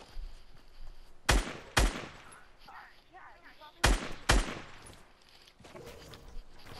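In the video game Squad, two pairs of sharp rifle shots crack out a couple of seconds apart, loud and near, over a low background of game ambience and faint talk.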